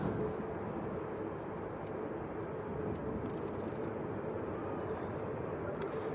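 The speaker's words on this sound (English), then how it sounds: "Next to land will be EasyJet from Turin." An EasyJet airliner arriving from Turin lands at Manchester Airport, heard as a steady, fairly faint broadband jet roar at a distance, with no clear talking.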